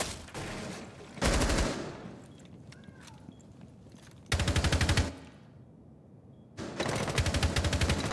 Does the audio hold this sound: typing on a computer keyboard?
no